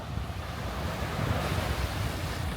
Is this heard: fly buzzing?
no